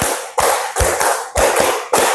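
Hands clap in a classroom rhythm exercise, sharp close claps in short groups of two separated by brief pauses, with no talking.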